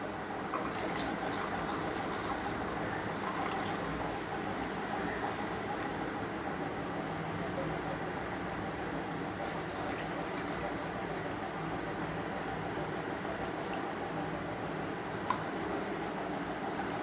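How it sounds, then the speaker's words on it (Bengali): Warm milk poured into yogurt for tok doi, a continuous splashing liquid stream with light drips, close and even throughout. "এর মধ্যে দুধটা দিয়ে দেব।"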